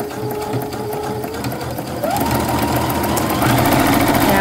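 An electric sewing machine stitches bag fabric in a continuous close mechanical whir with a rapid needle rhythm, speeding up partway through and running louder toward the end, with no talking.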